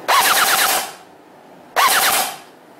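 Two loud bursts of full-auto fire from a JG SL8 DMR airsoft rifle, shot dry without BBs, each burst a rapid mechanical rattle lasting under a second, close up with a short pause between them.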